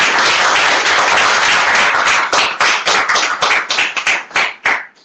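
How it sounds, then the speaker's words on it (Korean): A lecture audience bursts into loud, dense applause that holds for a couple of seconds, then thins into scattered individual claps before fading out. "큰 박수 한 번 주십시오"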